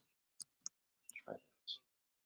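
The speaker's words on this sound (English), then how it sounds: "just like I'm typing it now." A handful of sharp, separate keyboard key clicks tap out at an uneven pace, close and clear, with a brief burst of talking in the middle.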